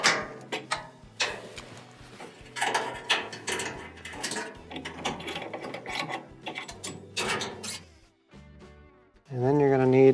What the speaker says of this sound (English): Disconnect your springs.